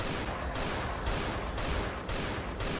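Rapid bursts of gunfire in the video game Last Day on Earth: Survival repeat in a regular rhythm, loud and dense, with brief pauses between volleys and no voices.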